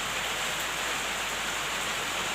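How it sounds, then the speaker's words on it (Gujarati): Steady, continuous rain falling during a prolonged wet spell, an even dense hiss with no breaks, close and uniform throughout, no voices. "બે દિવસથી સતત વરસાદ જ છે"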